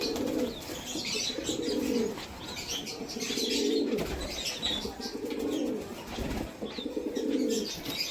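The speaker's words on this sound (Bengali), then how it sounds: "এরা ছটফট করছে দেখুন, পুরো বন্ধ লেজের পায়রা" Closed-tail pigeons in a loft coo repeatedly in low, rolling phrases at close range, with restless fluttering and occasional chirps mixed in, and no speech.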